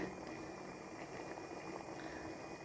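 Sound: peach jam boiling in a pot

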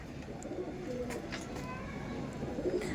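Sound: Punjabi pigeons cooing

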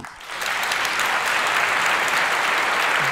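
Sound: applause in parliament

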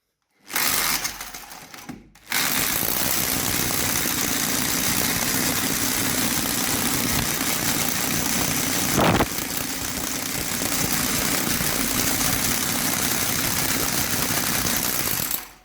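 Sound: drill boring into hard house wall

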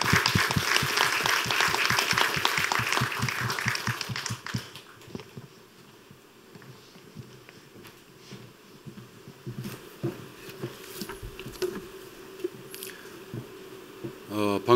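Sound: applause welcoming the minister

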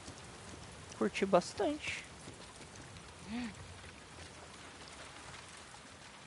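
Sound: rain in video game The Last of Us Part II

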